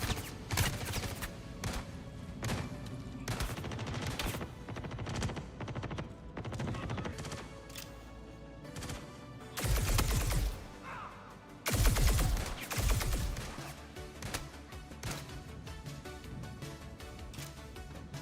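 Gunfire between enemies in the Star Citizen video game, a steady spread of shots with a few louder, denser bursts of fire standing out.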